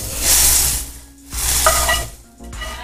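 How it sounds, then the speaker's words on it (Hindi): Hot ghee-coated vermicelli being stirred into hot boiled milk for sheer khurma, giving two bursts of loud sizzling and stirring with a pause between, with light clinks of a pan and utensil. "सारी घी सहित सेवैया हम इसमें डाल देंगे।"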